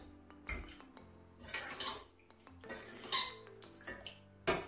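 Cooked dal stirred in a metal cooking pot with a spoon, producing a quiet series of clinks, scrapes and taps of utensil against the pot at an irregular rhythm, close-up, no talking.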